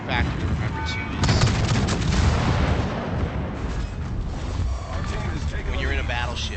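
Heavy 14- to 18-inch battleship main guns firing in the naval game World of Warships, dense booming salvos and blasts rolling continuously with water and engine noise, loud and near, under background speech.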